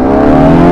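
A 2015 Bajaj Pulsar RS200 motorcycle accelerates hard in first gear, its engine loud, close and rising in a strong, buzzing whine.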